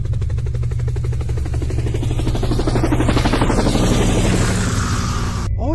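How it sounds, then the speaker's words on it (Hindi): A helicopter engine runs loudly and steadily, its rotor producing a rapid rhythmic chop throughout before cutting off abruptly. "फिर ग्रैंडपा हेलीकॉप्टर को स्टार्ट कर देते हैं"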